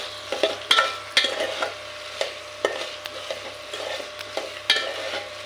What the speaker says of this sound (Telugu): అలా కలుపుతా మనం ఫ్రై చేస్తూ ఉంటే, వేపుతూ ఉంటే అంటుకోకుండా ఉంటాయి మనకు అడుగున.